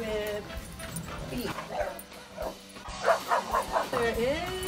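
A puppy gives a run of high yips and small barks, close and fairly loud, mixed with people talking and cheering.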